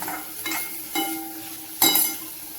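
Cooked bitter gourd and coriander are stir-fried in a pan. Soft sizzling runs underneath about four distinct scraping stir strokes, the last one the loudest.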